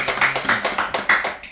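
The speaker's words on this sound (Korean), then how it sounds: "우리 박수." A church congregation claps for a child's second-place finish in a Bible recitation contest, a brisk rhythmic run of about eight clustered claps, fairly close and loud, with no talking.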